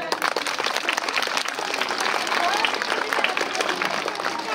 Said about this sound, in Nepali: सबैजना ताली बजाउने है